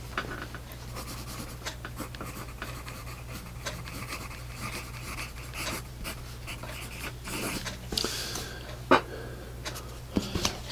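A Doms Fusion Xtra Super Dark pencil scratching across paper up close, with irregular strokes and small taps, fairly quiet and alone without speech.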